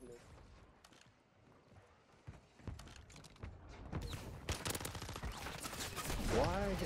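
Gunfire in Call of Duty Warzone on Rebirth Island comes as rapid bursts of shots that build from faint to loud and dense, with game noise and a voice talking over them.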